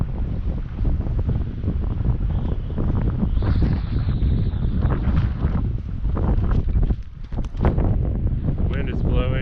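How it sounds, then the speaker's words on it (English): Steady wind blowing outdoors on a farm during solo tree removal, a broad continuous roar and microphone buffeting that runs loudly through the whole stretch. "Wind is blowing"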